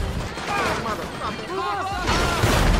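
Gunfire during a police station shootout in GTA 5, a crackle of shots under busy game noise while someone talks over it.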